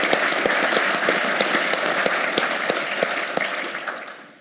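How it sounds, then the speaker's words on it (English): Audience at a city economy conference gives a round of applause, dense steady clapping from a hall of people that fades slightly toward the end. "Let's give him a round of applause as well."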